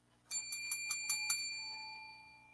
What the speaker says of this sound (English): The panic button that we had at the old studios has been replaced by a bell.